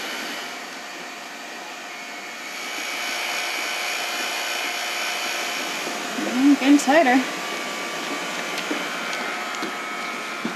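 A steady mechanical whine from a vacuum pump drawing resin through a catamaran hull infusion runs the whole way, with a brief voice speaking partway through and some small clicks and squeaks.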